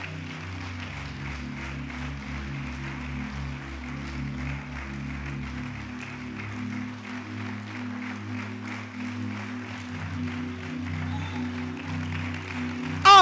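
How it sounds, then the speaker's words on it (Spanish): A church congregation applauds at length during a sermon, faint continuous clapping blended with held keyboard or organ notes that shift chords, and no voices, ending in a brief louder burst. "Denle un aplauso de veras."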